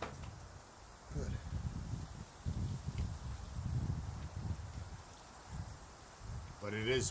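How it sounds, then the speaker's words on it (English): Wind gusting outdoors at night at a meteor-watching spot, a steady rushing roar with low buffeting swells that rise and fall throughout. "But it is windy,"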